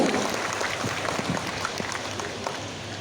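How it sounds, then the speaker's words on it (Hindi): Crowd applause at a JMM political rally in Dumka, India, starts strong and quickly tapers into a quieter, scattered patter over a few seconds. "जोरदार तालियां होनी चाहिए आप सबकी तरफ से सम्मान"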